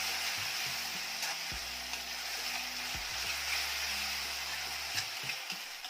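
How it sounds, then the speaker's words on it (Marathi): Ginger, garlic, coriander and chilli paste sautéed with chicken, a dense steady hiss of frying oil with intermittent scraping strokes from a spatula, close and even throughout with no talk. "जी आलं लसूण कोथिंबीर आणि मिरचीची पेस्ट आहे ती घालायची आहे. हे देखील छान परतून घ्यायचं"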